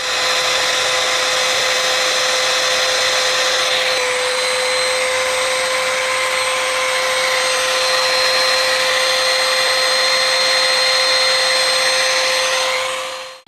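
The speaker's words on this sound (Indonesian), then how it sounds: "Kita akan tes RPM dulu." A Haluusss HL 3703 electric trimmer runs at high RPM, a loud, continuous high-pitched motor whine with steady tones. It shifts slightly about a third of the way in and cuts off at the end. No voices are heard.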